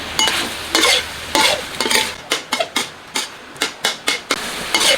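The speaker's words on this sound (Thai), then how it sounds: "น้ำมันเขาเริ่มออกมาแล้ว ก็จะคั่วไปเรื่อยๆอย่าหยุด" Pork belly sizzles in a hot pan with no added oil, rendering its own fat, while a spatula scrapes and clanks against the metal in quick, rhythmic strokes, close up.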